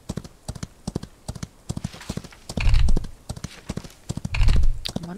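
Horse hooves clip-clopping during riding in the Western video game Outlaws of the Old West, a steady run of close, distinct hoofbeats with two louder, rumbling galloping stretches.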